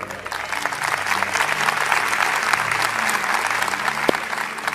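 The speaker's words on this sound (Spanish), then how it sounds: "el aplauso pudo ser mejor, pero está bien" Audience applause at a Danilo Montero church event in Lakewood, a steady, dense wash of clapping holding evenly through the whole stretch with no voices breaking through.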